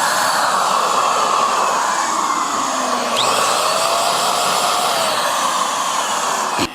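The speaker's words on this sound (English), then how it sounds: "I was under the impression that this was an airless paint sprayer, but it looks like it is a siphon paint sprayer" An electric siphon paint sprayer runs steadily with a loud, continuous high-pitched whine and airy hiss, close and alone, cutting off abruptly at the end.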